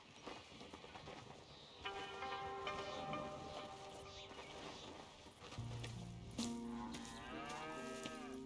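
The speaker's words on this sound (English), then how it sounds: "Here's the cows." Cows moo on a farm in the western game Red Dead Redemption 2, several long, low calls from nearby, some overlapping, with faint hoof sounds and footsteps around them.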